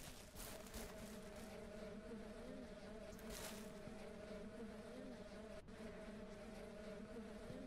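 Bees buzz continuously in the farming game Ranch Simulator, a steady droning hum around a tree, fairly faint and even, with a brief sharp click partway through.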